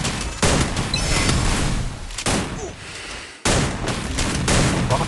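Rapid bursts of gunfire from the battle royale game Free Fire Max fill the scene, with dense overlapping volleys that cut out briefly at two points and then resume loudly.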